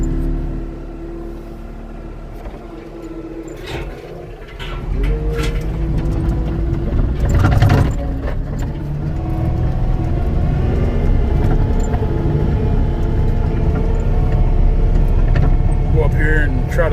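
A Cat 289D track loader idles and then runs with a loud, steady diesel drone as it comes off a trailer, while someone talks over the engine.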